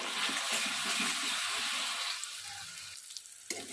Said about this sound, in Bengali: এবারে মশলাটা দিয়ে আমি ভালো করে কষাবো